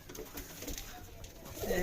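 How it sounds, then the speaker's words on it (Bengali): A pair of red-and-black American racer pigeons cooing softly nearby at a pigeon farm, a low throaty burble rising toward the end, with some faint background voices. "এই যে লাল কালো কবুতর জোড়া মার্কিনি রেসার"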